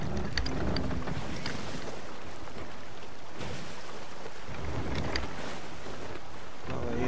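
A sailing ship under full sail in Sea of Thieves, with a steady rush of wind and water washing against the hull, moderate and continuous, with faint creaks and splashes and no talk.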